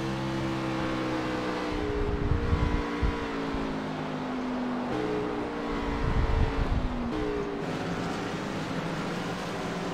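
Drag racing cars with over 800 horsepower launching hard from nearly a dead stop at Sonoma Raceway, engines roaring loudly in rising, overlapping sweeps that swell and repeat across the clip.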